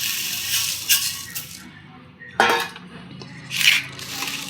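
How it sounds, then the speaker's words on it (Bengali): Puffed rice (muri) poured into a bowl for a vegetable muri chaat, giving a few short rattling, clinking bursts against the bowl, separated by quiet gaps. "এবারে দিয়ে দেবো মুড়ি।"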